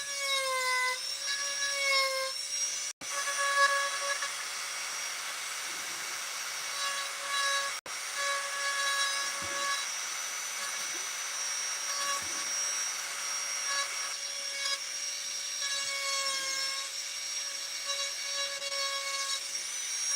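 Rotary carving tool fitted with a diamond burr grinding into wood, a steady high-pitched whine with shifting tones as the burr bites and eases, continuous and close with brief pauses.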